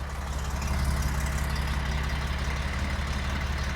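A 1971 Porsche 911E engine idles with a steady low rumble, close by and constant throughout.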